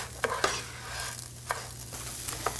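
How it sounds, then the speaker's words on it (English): Arborio rice is fried with garlic and leek in oil in a pan for risotto. A steady low sizzle runs throughout, and a few crisp spoon scrapes and clicks sound nearby, with no talking. "we're just going to cook this over medium heat for about 1 to 2 minutes"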